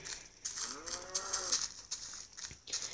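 A Minecraft cow moos in a game session, one drawn-out low call with a wavering pitch that rises and falls, set against steady high background noise with no talk.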